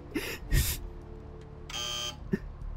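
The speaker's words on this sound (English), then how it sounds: "I'll buzz you in." A door buzzer in the video game Vampire The Masquerade Bloodlines sounds in a few short electronic bursts, including one longer steady buzz, among faint game noises.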